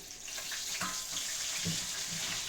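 Pike coated in cornmeal sizzles steadily in a frying pan, a bright continuous hiss of hot oil with faint clicks and light knocks from cooking.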